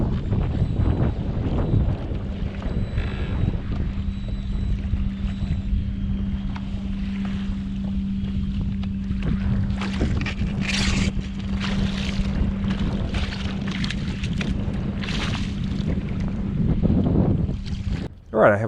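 Steady wind roars across the microphone during pedal-kayak trolling for fluke, with a low motor-like hum running through most of the stretch and brief gusts peaking toward the end.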